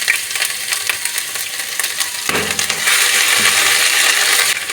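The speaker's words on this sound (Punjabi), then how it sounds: "ਹੁਣ ਅਸੀਂ ਇਹਦੇ ਵਿੱਚ ਇੱਕ ਚਮਚਾ ਲਸਣ ਇੱਕ ਹੀ ਚਮਚਾ ਅਦਰਕ ਇਹਨਾਂ ਦੋਨਾਂ ਨੂੰ ਪਾ ਦਾਂਗੇ" Garlic and ginger hitting hot oil with cumin, a bright crackling sizzle with stirring scrapes, briefly dipping before the frying surges louder and continues steadily.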